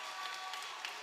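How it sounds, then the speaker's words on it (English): Fans at a boys high school basketball quarterfinal give a brief, steady patter of applause, distant and fairly soft. "he's getting the appropriate applause"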